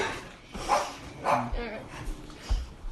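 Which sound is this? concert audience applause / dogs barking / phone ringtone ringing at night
dogs barking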